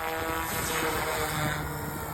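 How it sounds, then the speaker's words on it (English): Yuxiang F280 RC 3D helicopter hovering in stability mode, a steady continuous whine of rotor and motor holding near and constant throughout with no talk. "you guys at Yuxiang built one hell of a helicopter. This thing is super stable."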